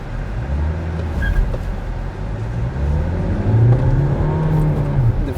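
A Jeep Compass 4x4 with a Fiat diesel engine accelerates from 0 to 100 km/h, the engine note climbing, dipping at a gear change, then climbing again loud and close from inside the cabin.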